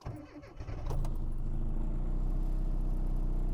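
A few quick clicks and a starter whir, then the small fuel-injected, turbocharged engine of a classic Mini Cooper catches and settles into a steady, throaty idle close by.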